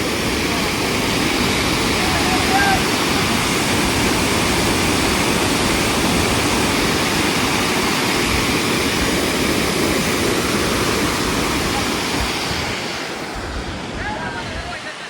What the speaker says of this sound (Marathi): आणि ही सरळ नदी वाहत जाते ती